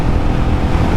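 A Royal Enfield Meteor 350 single-cylinder motorcycle, 349 cc, cruises at about 65 mph with a steady low engine drone under heavy wind rush, loud and continuous.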